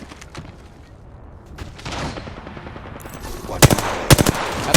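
Machine gun fire in a video game, several loud sharp bursts late in the clip over a rumbling, noisy background, with a brief spoken word early on.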